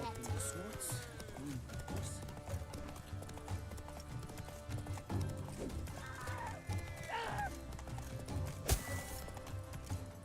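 Roach the horse in The Witcher 3 clip-clops steadily at close range with an occasional whinny, over game music and ambient noise, with some talk mixed in.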